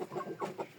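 A chicken gives a few quick, soft clucks in a short burst, faint and close, with no voices.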